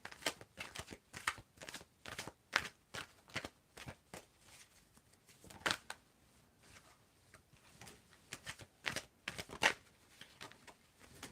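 Tarot cards being shuffled close up, a quiet series of crisp riffling bursts and soft slaps in an irregular rhythm, alone without talk.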